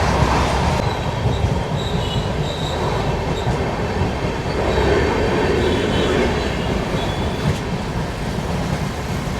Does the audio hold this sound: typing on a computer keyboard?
no